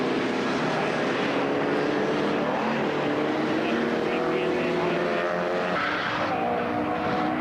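Classic touring cars race at Silverstone, among them a little Mini, their engines a continuous loud roar of passing machines heard under steady race commentary.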